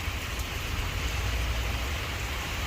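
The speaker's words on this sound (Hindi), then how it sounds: "बारिश बहुत तेज़ हो रही है" Heavy rain pours steadily onto a street in Newark, New Jersey, a dense, constant hiss of close downpour with no pauses and no voices.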